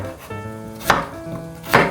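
Meat drained of blood being stir-fried in a pan, with two loud spatula knocks against the pan over a low background hum and no speech.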